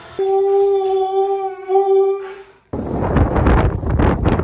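Dogs howl in a long sustained tone with harmonics for about two seconds, near and loud, then the sound cuts to gusty wind buffeting the microphone outdoors.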